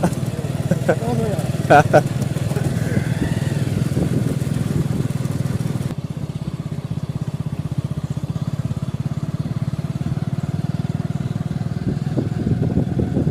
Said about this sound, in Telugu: బండి స్టార్ట్ కాలే స్టార్ట్ కాలే బండి